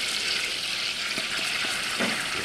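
Butter or fat sizzles loudly in a pan as flour goes in for a roux, a dense steady frying hiss up close with a few soft stirring taps underneath.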